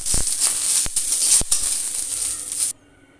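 Garam masala and shahi jeera stirred in hot oil in a pot for chicken pulao, a loud continuous sizzle with a few sharp scraping knocks before it cuts off abruptly.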